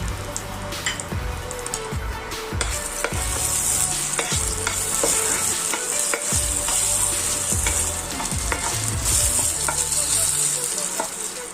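Whole bay leaves, cinnamon sticks, cloves, peppercorns and cardamom pods fry in hot ghee for mutton rogan josh, a steady close sizzle broken by repeated scraping stirs and small pops, with no talking.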